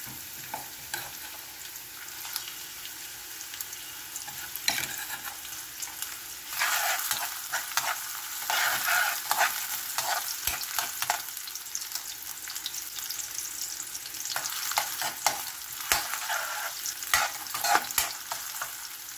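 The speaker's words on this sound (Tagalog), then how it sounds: "maglagay po tayo ng mantika sa mainit na puwali" Sliced onion frying in hot oil in a wok, a continuous loud sizzle that swells partway through, punctuated by frequent scraping stirs of a utensil against the pan, close up with no talk.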